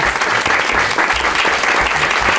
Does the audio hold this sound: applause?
yes